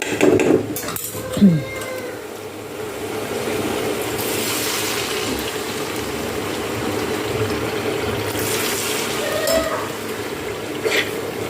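Dishes, pots and pans being washed in a home kitchen, with clattering metal knocks and running water over a steady background hiss; a few sharper clinks stand out near the start and end.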